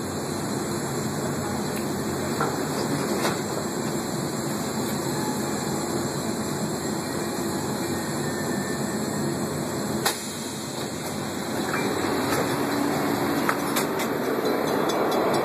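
A steady rumbling Metra commuter train interior with constant mechanical hum and hiss, occasional brief clanks, slowing slightly near the end as it pulls into the Midlothian stop; no one talks.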